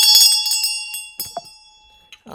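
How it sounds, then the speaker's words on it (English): A small ritual bell used in a Chenrezig sadhana rings close and bright, with a sharp strike followed by a long shimmering ring that slowly fades, then a brief soft knock. "Or the bell again."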